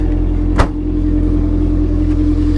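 A car with its mufflers removed rumbles loudly and close at a steady pace. Its deep, throaty engine note is broken once by a brief sharp burst early on.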